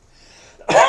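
A single sharp, loud cough bursts out close after a near-silent pause, with a short throaty tail.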